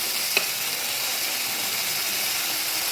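Onion garlic paste and turmeric frying in a pan with already fried onions, a steady close hiss of sizzling oil with one small clink early on, continuous and without talk.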